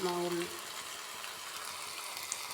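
Brinjal (eggplant) sautés in a pan with curry leaves and salt, giving a steady, close sizzle and hiss that continues after a brief tonal sound at the start.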